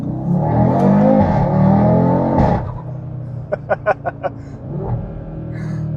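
Audi RS3 8Y2 accelerating from the cabin, a loud sustained engine rumble and whir that drops away midway, followed by a quick series of sharp pops or crackles and a quieter idle hum.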